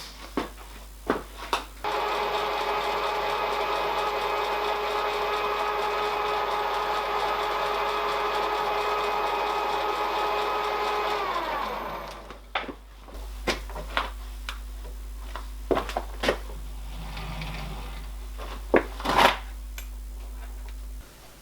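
A small milling machine with a 2mm cutter works a locomotive piston part in a home workshop, giving a steady whining hum for about ten seconds before spinning down, followed by scattered clicks and taps.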